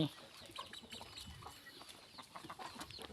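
Chickens cluck faintly on a small rural farm that also keeps pigs and ducks, with scattered short clucks and calls over a quiet outdoor background.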